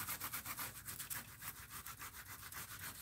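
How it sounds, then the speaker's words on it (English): Steady back-and-forth rubbing of sandpaper along the edges of a paper collage, close and fairly quiet, with even rhythmic strokes and no talking. "Maybe sand the edges a little bit more here."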